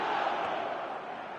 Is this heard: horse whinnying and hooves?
no